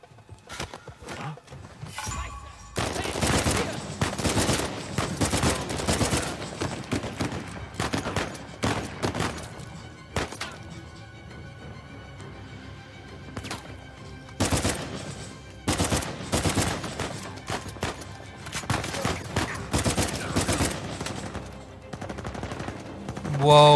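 Sniper gunfire and other shots in the action game Uncharted 4, loud bursts of firing that come back again and again through the scene with pauses between them, mixed with game sound and a voice.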